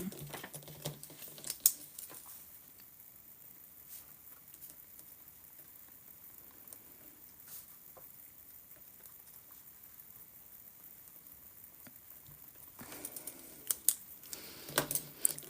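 Keyboard typing during morning journaling, faint soft clicks clustered at the start and near the end with a quiet stretch of light tapping between.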